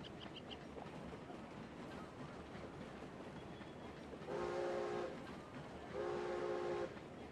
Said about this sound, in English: Oh, here comes a train.